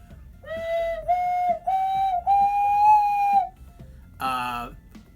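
An ocarina plays a short run of clear, pure whistling notes, several held and sliding slightly upward, close and fairly loud, ending with a brief brighter burst after a pause.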